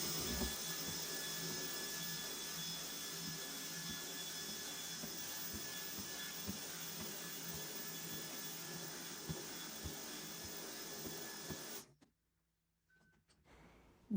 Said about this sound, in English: I think I'm going to grab the vacuum